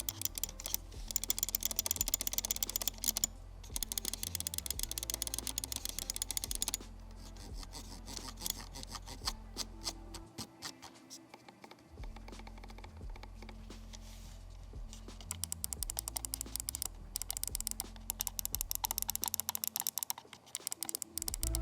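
A Logitech G Pro X Superlight wireless gaming mouse with Omron switches clicks rapidly and repeatedly, a dense run of crisp, sharp taps close up, with no talking.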